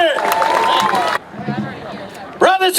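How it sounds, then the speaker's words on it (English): A crowd at a union Juneteenth rally claps and cheers loudly, with shouts and whoops over the applause, briefly dropping to a lower murmur before cheering surges back. "Let's give him a big round of applause"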